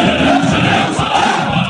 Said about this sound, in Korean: 우롱찬 구호의 함성이 끝없이